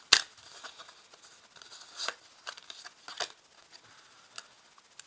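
Tarot cards being handled and drawn from a deck, a sharp snap at the start followed by soft, scattered papery slides and flicks, quiet and close with no talk.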